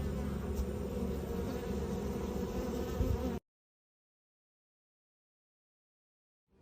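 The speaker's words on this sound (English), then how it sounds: "A small swarm of bees had gathered on this tennis court" Dense, steady buzzing of a small swarm of bees gathered on a tennis court fills the first half, loud and close, then cuts abruptly to silence.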